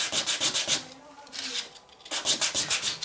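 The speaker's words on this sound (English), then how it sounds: "I'm going to just lay it on the sandpaper, and I'm going to rotate it a few times" Rhythmic scratchy rubbing of a cast center band for a beading tool pushed back and forth on sandpaper, a quick series of strokes, a brief pause, then more strokes, close up.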